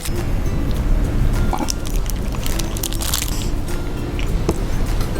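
Loud, close crunchy bites and chewing of a pumpkin spice Twinkie fill the clip continuously, with wet squishy mouth noises and no talking.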